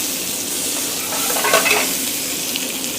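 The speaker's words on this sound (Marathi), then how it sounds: "तेल टाकलं कांदा टाकायचा" Onion hits hot oil in a busy hotel kitchen, a loud, dense, continuous frying hiss that swells slightly in the middle and stays steady throughout.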